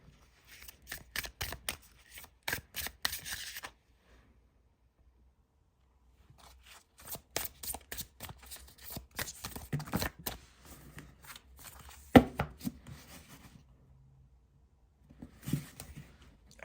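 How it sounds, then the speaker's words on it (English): Oracle cards with a rose petal finish, standard playing-card size, being shuffled in repeated bursts of crisp riffling and flicking, close and fairly quiet, with pauses between runs. "So let me show you how well this shuffles."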